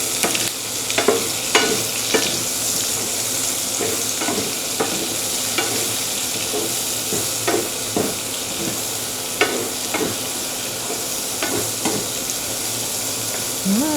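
Garlic and onion sauté in a pan, a steady sizzle carrying repeated scraping stir strokes in an irregular rhythm, close and fairly loud, with no voices.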